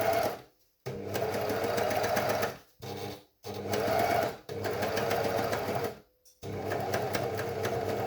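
Serger overlock sewing machine stitching through fabric, a loud steady mechanical whir running in several bursts separated by short pauses, close by and alone.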